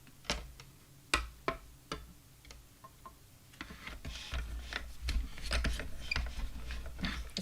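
A die-cutting machine runs an embossing circle die through, starting with a few sharp clicks from the hand crank, then a steady close grinding, rolling mechanical noise as the plates feed through.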